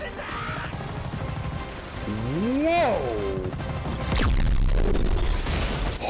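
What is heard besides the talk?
explosions in anime Saga of Tanya the Evil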